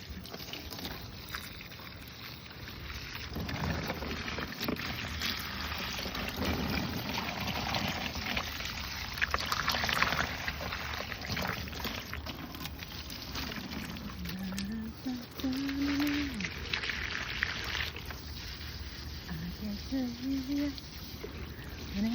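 Water from a hose or watering can splashes into a garden pond outdoors, a steady broadband pour and trickle running throughout, with voices talking over it at moderate loudness.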